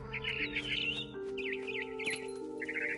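Barn swallow chirps and short tweets in the video game What Remains of Edith Finch flutter over a steady electronic hum and tonal drone, with the calls coming in quick clusters.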